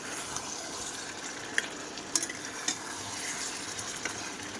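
Meat and large potato pieces frying in a spiced masala give off a soft continuous sizzle, with a few light clicks of a utensil against the pot, quiet and without speech.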